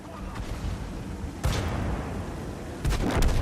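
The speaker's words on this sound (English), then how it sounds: "the 5916 starts to move and fires at the T-34" Tank cannon fire in World of Tanks, a 59-16 light tank engaging a T-34, booms twice, the two sharp heavy blasts a little over a second apart over a constant rumbling game backdrop.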